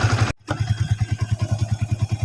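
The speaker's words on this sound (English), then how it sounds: "Then just click the switch and the engine will turn on." A manual motorcycle engine fires up after a short silent gap and settles into a close, steady idle, its low exhaust pulses thumping in a quick, even rhythm.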